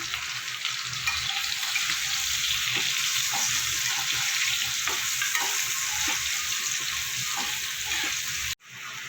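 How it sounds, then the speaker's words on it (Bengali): Potato pieces fry in a pan with salt and turmeric, a continuous loud sizzle with soft stirring scrapes and clicks throughout, ending in a sudden brief break near the end. "একটু হলুদ দিয়ে আলুটা আমি ভেজে নেবো"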